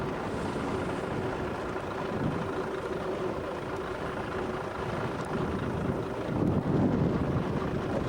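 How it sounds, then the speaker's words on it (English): Strong wind buffets the microphone at a scenic roadside stop in Norway, a continuous rough roar with low rumbling gusts that swell near the end, no talking. "It's so windy up here, it's hard to hold the camera still."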